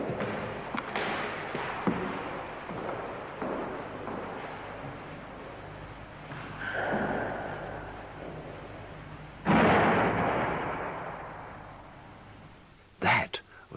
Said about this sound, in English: That was the sound of the locked door flying open and slamming shut